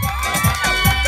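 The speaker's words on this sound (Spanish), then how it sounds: "¡Mira, premios al que sea aplaudiendo y gritando!" A party crowd at a birthday celebration shouts and cheers in a busy, steady din, with loud bursts of voices rising over the general noise.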